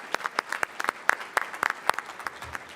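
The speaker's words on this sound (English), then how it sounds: "let's give one more round of applause to our top scholars and Shining Apple teachers." Scattered applause for top scholars and teachers at a Teacher of the Year ceremony: separate, uneven hand claps with gaps between them, crisp and fairly close, like a thin crowd clapping at different paces.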